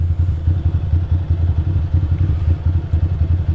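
A Ducati Monster 620 motorcycle engine runs at a steady idle, a loud, close, lumpy low throb with an even pulsing rhythm throughout and no talk.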